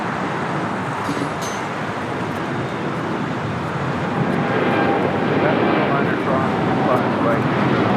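An American Airlines 787-8 Dreamliner bound for Philadelphia rolls down runway 25 right at LAX, a steady broadband jet roar holding at a distance for several seconds with faint voices over it.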